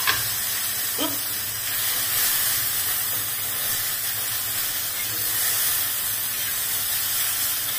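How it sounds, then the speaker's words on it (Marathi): Tomatoes roasting in a pan with coconut and onion, a steady close hissing sizzle that carries unbroken throughout, with a faint tap of a utensil early on and no voices. "टमाटरला चांगलं असं भाजून घ्यायचं."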